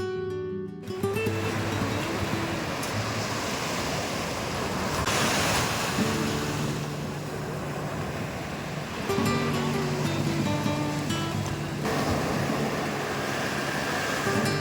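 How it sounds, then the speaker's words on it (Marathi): Surf washes steadily onto a quiet Konkan beach near Malvan where a river meets the sea, a continuous broad rushing roar that swells slightly at moments, with faint steady tones running underneath throughout. "आपण पोहोचलो त्या ठिकाणी जिथं नदी आणि समुद्राचा संगम असणारं ठिकाण"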